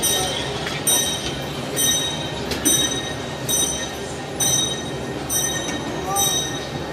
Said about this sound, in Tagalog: Ayan na yung train, oh.